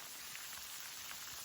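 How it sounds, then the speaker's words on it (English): Steady, faint rain patters on a surface on the Appalachian Trail, a soft continuous hiss with scattered drops and no voices. "Right now it's kind of raining."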